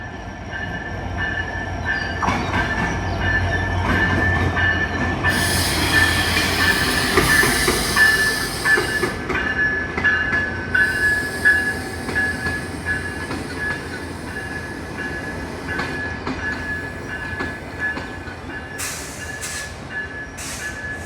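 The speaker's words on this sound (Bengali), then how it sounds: "এই দেখেন ট্রেন আসতেছে, আস্তে আস্তে ট্রেন আসতেছে, ঝক ঝক ঝক ট্রেন চলেছে।" The Silk City Express bound for Kamalapur pulls into a station, a heavy rumble building as carriages roll past with rhythmic clatter, metallic wheel squeals and brake hiss, loud and near, then easing off as it slows.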